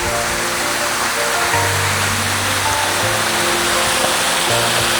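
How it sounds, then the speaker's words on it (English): Water pours steadily beneath a bridge on a free family nature trail in Clydach, a dense, continuous rushing roar like a small waterfall or fast stream, close and loud with no talking. "Flowing water."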